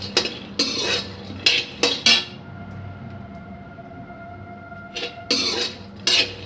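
A spoon stirs peanuts in a metal pan, making bursts of scraping and clattering at an uneven rhythm, close and fairly loud, with brief quiet gaps between strokes.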